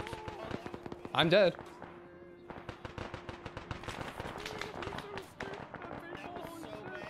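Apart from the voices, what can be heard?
explosion in a video game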